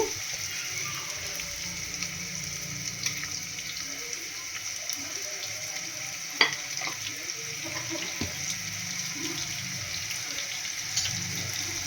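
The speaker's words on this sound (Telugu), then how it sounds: "హీట్ అయింది ఆయిల్ హీట్ అయింది ఇప్పుడు మనం ఆనియన్స్ వేసుకుందాము" Onions sizzle and fry in hot oil in a pan for chicken curry, a steady close hiss with a few sharp clicks and stirring scrapes, no voices.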